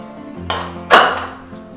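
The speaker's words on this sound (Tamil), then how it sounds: "இப்போ நம்ம குக்கரில் மூடிடலாம்." A pressure cooker lid closes during chicken biryani cooking, a short metallic clank, close and sharp, with a lighter clink before it over a steady background hum.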